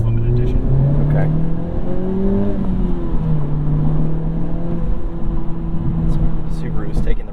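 Engine of a 2021 Honda Civic Type R Limited Edition revving and holding steady drones, heard continuously from inside the car under people talking.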